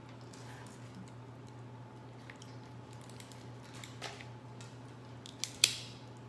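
Scissors snip through a crawfish shell at a seafood meal, a few quiet crunching cuts with one sharp crack near the end, close and faint with no talk.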